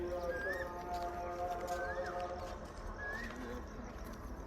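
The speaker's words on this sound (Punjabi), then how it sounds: "ਕੋਇਲ ਬੋਲਦੀ ਹੈ" A distant koel calls in repeated rising whistled notes in the early morning, evenly spaced, faint over steady outdoor background noise.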